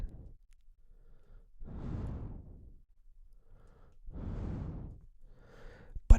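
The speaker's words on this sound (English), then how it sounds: "subtle blockage in my breathing, which sounds like I'm congested" Slow, congested breaths through a blocked nose come close and quiet, two long drawn inhales or exhales separated by pauses, with softer breathy snuffles in between and nobody speaking.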